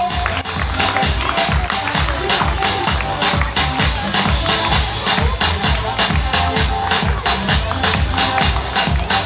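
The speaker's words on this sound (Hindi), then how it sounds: "जोरदार तालियों से इनका इस्तकबाल करें।" Audience at a school prize ceremony claps loudly for a KG2 pupil coming to the stage, many hands beating in a fast, steady patter that runs unbroken for several seconds.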